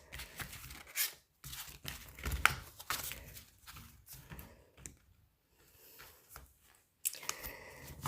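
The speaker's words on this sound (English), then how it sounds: "I'm just going to kind of shuffle the deck here" A deck of tarot cards is shuffled close up in quiet bursts of riffling and soft card slaps, broken by brief pauses, with no talking.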